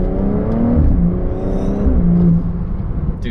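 BMW F30 340i inline-six revving hard in Sport Plus, a loud, close engine note climbing through the gears with clear harmonic whine and brief drops at shifts.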